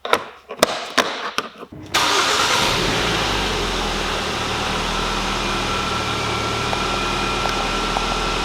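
A few clicks and a cranking starter lead into a car engine with an ECU connection fault catching and starting, then it settles into a steady, loud idle.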